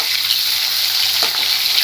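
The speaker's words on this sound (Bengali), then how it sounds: "মাছের মুড়োগুলো ভেজে নেবো তা মাছের মুড়োটার এক পিঠ ভাজা হোক" Fish heads fry with green chillies in a pan of hot oil for a Bengali ol ghonto, giving a steady bright sizzle close by with no talk, over a short stretch.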